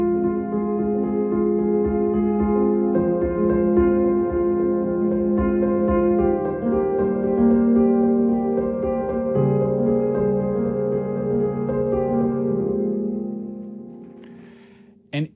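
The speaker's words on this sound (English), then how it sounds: "It's a simple piano figure that sounds like this." Solo piano plays the repeating arpeggiated figure that opens a piece, a steady flowing pattern of sustained notes, close and full, fading out at the end.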